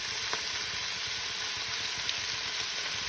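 Short ribs sear in a hot pan with a steady, close, even sizzle that runs unbroken throughout, with no talking.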